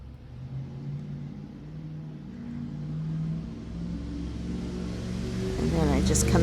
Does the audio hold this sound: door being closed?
no